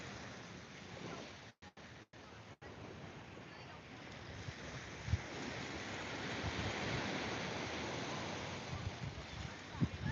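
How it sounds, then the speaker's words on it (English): Ocean surf rolls onto a beach as a soft, continuous wash of waves mixed with wind buffeting the microphone, with a few brief dropouts early and the rush building slightly toward the end. "The ocean mesmerizes me."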